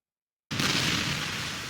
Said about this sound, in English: Structural explosions.